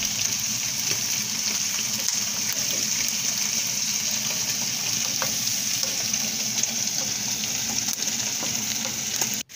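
Garlic sizzling in a pan while being stirred for a molcajete serrano chile salsa, a steady close crackling hiss with faint scraping throughout and no talk.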